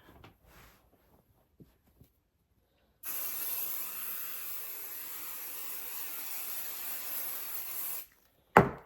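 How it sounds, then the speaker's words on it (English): A steady hissing spray of quilt basting spray onto batting runs for about five seconds, close and moderately loud, between quiet handling noises; a sharp knock follows at the end. "So I'm gonna spray"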